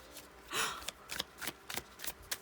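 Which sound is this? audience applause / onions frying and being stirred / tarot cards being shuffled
tarot cards being shuffled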